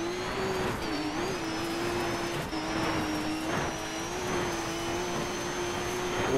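A rally car engine drones steadily in the video game Dirt 3, holding one pitch with brief dips at gear changes, loud and continuous.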